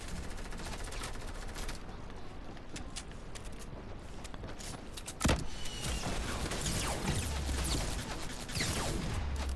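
Heavy assault rifle fire in Fortnite Battle Royale, dense bursts of rapid shots rattling over a busy game mix, with a sharp loud crack midway and steady firing continuing close by.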